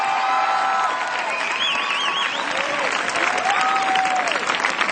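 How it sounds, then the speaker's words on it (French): Steady applause from a large audience fills the room, continuous and dense, with a few faint whistles or voices rising over the clapping. "On les applaudit."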